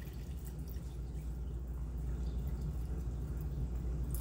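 Water poured into a cup while making guava agua fresca, a steady liquid splash and fill sound at close range with no talking.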